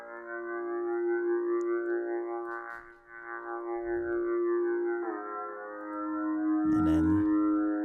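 An Alarm MC synthesizer lead in FL Studio plays a sustained, tonal melody with bright stacked harmonics, moving between held notes, with a few soft percussive hits underneath.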